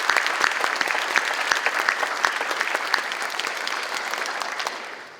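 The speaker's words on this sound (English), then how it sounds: "Let's give all of them a round of applause, please." A ceremony audience breaks into a round of applause, many hands clapping in a dense, lively patter with a few sharper claps standing out, slowly tapering off near the end.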